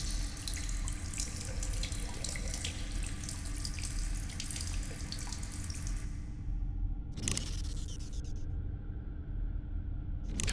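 A faucet runs steadily in the Stasis video game, a constant hissing stream of water that cuts off abruptly partway through, then a brief splash before quiet.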